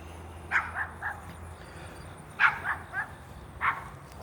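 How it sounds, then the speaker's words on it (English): A dog barks from some distance in short bursts, two or three quick yaps, a pause, then another cluster, over a low steady background hum. "I'm trying to get away from the dog a little bit so you can hear what I'm saying."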